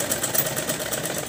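A sewing machine stitches salwar fabric in a quick, close, steady mechanical chatter of rapid needle strokes, loud and alone for a brief burst.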